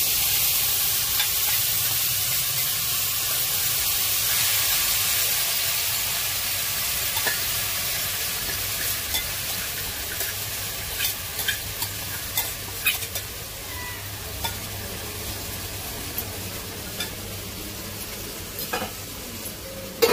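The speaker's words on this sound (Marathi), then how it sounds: "त्या भाज्या सर्व मी त्यामध्ये टाकते" Marinated mixed vegetables for veg biryani sizzling in a cookware pot over low heat, a steady loud frying hiss with occasional stirring clinks and scrapes.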